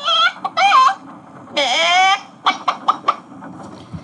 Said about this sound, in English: Now we hear the chicken clucking again.